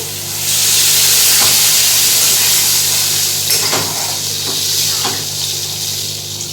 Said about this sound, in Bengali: এবার দিয়ে দেবো অল্প পরিমাণে জল